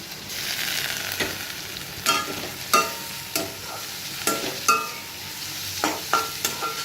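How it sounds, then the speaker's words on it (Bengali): A spice paste of crushed garlic and ginger sizzles in hot oil in a pan, with a spoon scraping and stirring in repeated close strokes over the steady frying hiss. "এবার এই মশলাগুলোকে অনেকক্ষণ ধরে কষাতে হবে।"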